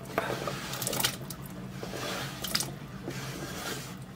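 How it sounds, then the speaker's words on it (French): Water is poured into a saucepan for nettle soup, a close, continuous splashing rush with a few brief knocks against the pan and no voices. "Dans une casserole, je vais y mettre l'eau."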